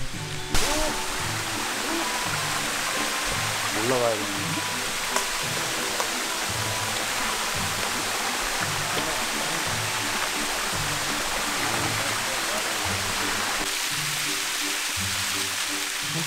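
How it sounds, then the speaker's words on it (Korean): Waterfall at a coffee farm in Honduras, a steady, dense roar of falling water that holds across the whole clip, with a voice speaking briefly over it. "와 진짜 폭포다."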